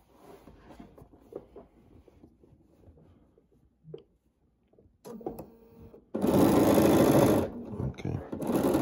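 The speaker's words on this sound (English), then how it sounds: "we're home here on our Bernina. And we are going to put a quarter inch seam here" A Bernina sewing machine stitches a quarter inch seam on a quilt top, a loud steady run of rapid needle chatter lasting a couple of seconds after quieter handling noises and a voice talking.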